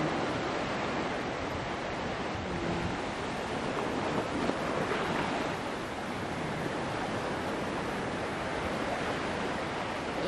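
Sea waves wash steadily onto the shore at Maangas, Presentacion, Camarines Sur, a constant broad hiss of surf with wind buffeting the microphone and no distinct breaks.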